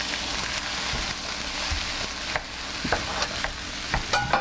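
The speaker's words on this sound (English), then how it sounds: "So I'm going to just take this hamburger, just put it in here. Let's just chop that up here." Lean hamburger meat frying in a pan while a utensil chops and breaks it up, giving a steady sizzle with repeated scraping, clacking strokes that get more frequent toward the end.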